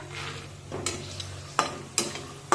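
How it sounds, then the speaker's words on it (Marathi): Cashews and raw peanuts frying in oil for crisp murmura chivda, a steady sizzle broken by a few sharp clicks and scrapes of stirring in the pan, close and fairly quiet with no talking. "काजू टाकूया परतून घेऊया त्यानंतर अर्धी वाटी कच्चे शेंगदाणे टाकूया"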